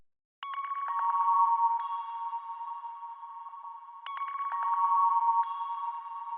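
A synth lead one-shot built in FL Studio and run through parametric EQ and delay plays as bright, bell-like tones with ringing echoes, two phrases sustaining over a steady ambient wash, with no voices.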